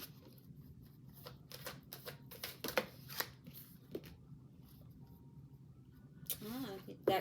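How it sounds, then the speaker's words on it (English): Tarot cards shuffled by hand in a series of quick papery riffling bursts, close and fairly quiet over a low room hum, with a louder flurry near the end. "So we're going to shuffle again"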